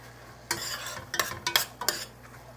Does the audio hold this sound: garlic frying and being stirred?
yes